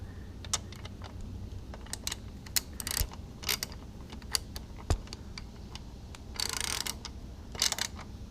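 A 12 mm socket ratchet tightens a magnetic transmission drain bolt on a 150cc scooter, giving quiet, irregular clicks and ticks at close range with no voices.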